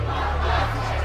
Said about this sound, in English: A crowd gathers at Kensington Town Hall